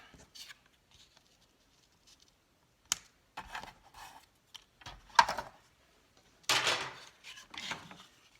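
Paper being trimmed with a cutter in a crafting session, giving a few short scraping, slicing strokes and light taps at a close distance, with quiet pauses between them.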